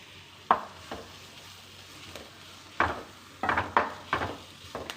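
Onions frying in oil for bread upma, with a low steady sizzle and several sharp scraping stirs and clinks of a spoon against the pan, close and fairly quiet.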